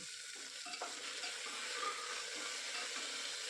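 Green peas and soaked peanuts fry in a pan for khichuri, giving a steady, close sizzle with scraping stirring sounds throughout and no voices.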